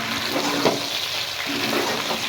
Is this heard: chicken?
yes